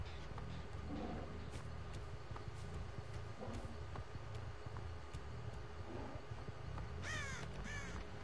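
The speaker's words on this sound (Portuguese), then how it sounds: "Ah, os corvos entregam minha posição." Crows caw repeatedly in the horror video game Dead by Daylight, several harsh calls scattered over a constant low rumbling ambience, with a louder burst of cawing near the end and no voices.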